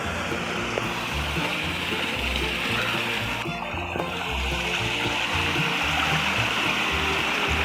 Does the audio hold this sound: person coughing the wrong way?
no